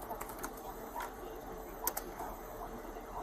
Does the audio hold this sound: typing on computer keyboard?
yes